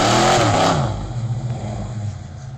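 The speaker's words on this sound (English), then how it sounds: "listening to the sound of the V8 rocket" A 1970s American luxury car's V8 engine revs up loudly and then settles into a deep, throbbing idle, close by with no voices.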